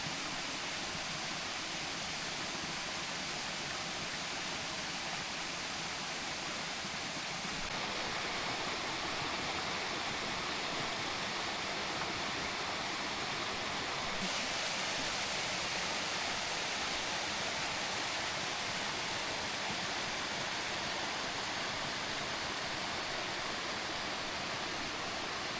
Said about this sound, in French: cette petite cascade et piscine naturelle